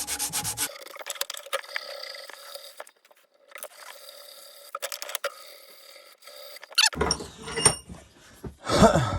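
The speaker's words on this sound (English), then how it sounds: "And you just take your sandpaper." Sandpaper rubbing back and forth over a wooden dovetail joint, producing dry scratchy strokes in bursts with short pauses between them, close up and moderately loud, with no talking.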